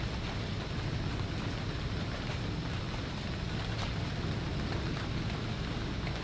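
Steady rain pours down during a severe thunderstorm, a dense, even hiss that stays loud and constant throughout with no thunder standing out.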